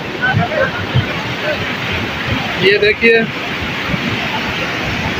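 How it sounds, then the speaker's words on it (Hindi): Steady, loud roar of high water rushing through a stream channel, running well above its normal level, filling the whole clip with broadband noise while people talk briefly over it. "आज मामूल से ज़्यादा नाले पे पानी आ रहा है"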